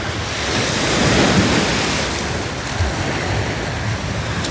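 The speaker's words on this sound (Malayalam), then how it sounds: "ചെറിയ തിരകളാണ്." Gentle sea waves wash onto a beach at Thoothukudi at night in a continuous soft roar, with wind buffeting the microphone.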